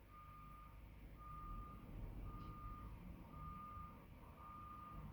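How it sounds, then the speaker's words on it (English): An airport service truck fitted with a tail hoist reverses, sounding a steady series of evenly spaced reversing beeps over a constant engine rumble. "The solution to the problem involves commandeering a nearby service truck with a tail hoist."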